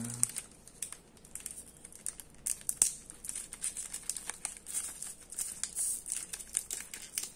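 Plastic wrapper on a Dragon Ball Z card game anniversary box crinkles and tears close by in quick, irregular rustles and crackles, with no talking.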